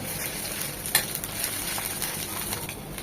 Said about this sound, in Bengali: দিয়ে দেবো উঁচু করে 1 চামচ আদা রসুনের পেস্ট। এটাকে 1 মিনিট ভেজে নেব